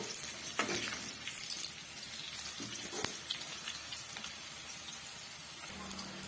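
Onions sizzle and crackle steadily in a hot pan, with occasional clinks and stirring scrapes, close by and with no talking.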